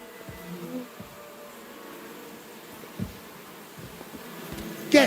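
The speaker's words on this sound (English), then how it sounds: "Get away! Those are my bees!" Bees buzzing steadily in Kingdom Come Deliverance 2, a continuous insect drone with a few soft thumps and a brief louder rustle at the end, with no talk.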